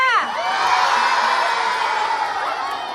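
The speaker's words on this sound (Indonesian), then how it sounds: "Yang ini tepuk tangan atau teriak." Studio crowd at a dance-contest show whoops and shouts loudly, high rising cries over a continuous cheering roar that stays strong throughout.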